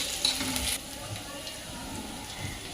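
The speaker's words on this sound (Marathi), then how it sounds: "चांगला भाजून घ्यायचा कांदा थोडासा लसूण आपण टाकला आता चांगलं मिक्स करून घ्यायचं" Onion and garlic fry in a pan with a steady, close sizzle that is brighter in the first moment, then settles into a softer crackle while a voice talks over it.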